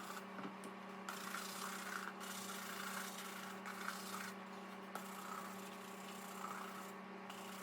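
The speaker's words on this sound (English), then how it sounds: "There's going to be constant brushing throughout this whole video" Steady, close brushing on the leather sole of an Allen Edmonds shoe during restoration: a continuous dry rubbing rasp runs through the whole stretch with small surges in intensity, with no talking.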